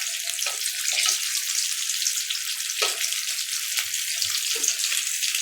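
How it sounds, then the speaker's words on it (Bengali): Samosas frying in hot olive oil give a continuous bright hissing sizzle, close and steady, with a few soft bubbling pops and light knocks in the pan. "ভাজতেছি অলিভ অয়েল দিয়ে"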